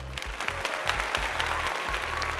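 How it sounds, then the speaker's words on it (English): Steady applause from a crowd, continuous clapping at moderate volume with no pauses. "can we just give a big old round of applause, a huge round of applause"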